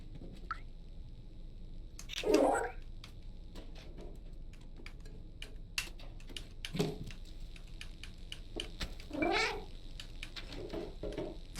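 Several distinct cat meows spaced apart, fairly close, with light clicking like typing on a keyboard in the background.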